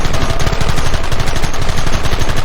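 Rapid gunfire rings out in a Red Dead Redemption shootout, a loud, dense burst of overlapping shots that continues without pause throughout.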